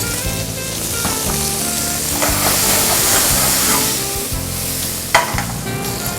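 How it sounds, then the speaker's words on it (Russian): Pieces of meat and ginger sizzle and fry in a pan until golden, a loud, continuous crackling hiss with stirring scrapes that holds steady throughout. "Это все мы обжариваем до золотистой корочки"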